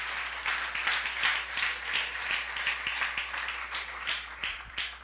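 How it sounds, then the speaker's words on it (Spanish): A church congregation applauds together in a dense, steady wash of overlapping handclaps that holds at an even level from start to finish. "Ahora, si va a aplaudir, apláudale al Señor."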